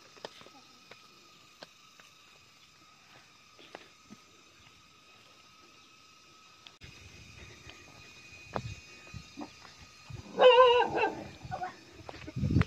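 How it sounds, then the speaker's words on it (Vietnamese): A dog barks aggressively at a rural Vietnamese family home, a few sharp, loud barks and yips near the end after a long quiet stretch. "Chó ác quá nhỉ."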